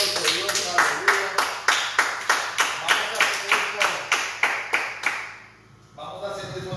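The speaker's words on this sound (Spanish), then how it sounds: "Dale un aplauso, hermano, a Dios en este momento" A church congregation claps in unison, a loud rhythmic beat of roughly two claps per second that stops abruptly near the end, leaving quiet before a voice speaks.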